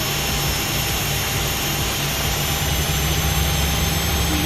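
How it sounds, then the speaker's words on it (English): Jet engine in the X-Plane 11 flight simulator spooling up after fuel is introduced, a loud steady roar with a low rumble and high whine held throughout, no talk. "You can hear that really spool up once we introduce that fuel."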